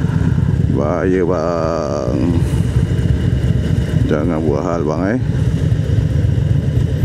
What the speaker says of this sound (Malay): Road Glide ni dia pakai, bukan macam motor biasa bang.